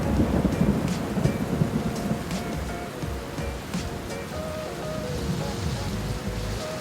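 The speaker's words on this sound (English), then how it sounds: "the heavens opened." Heavy rain pours steadily at Reteti Elephant Sanctuary in Samburu while deep thunder rumbles through the downpour, a dense continuous wash of water with no voices.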